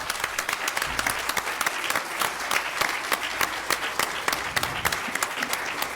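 Audience at a law faculty panel on judicial independence applauds steadily, a dense patter of many hands clapping at moderate level for several seconds without talk.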